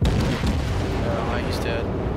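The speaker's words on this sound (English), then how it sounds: "Just getting some shots in. Have a little more firepower. Fire." Destroyer guns boom in World of Warships on the Fujin, a heavy rumbling barrage that stays loud and close throughout, with a voice talking over the firing.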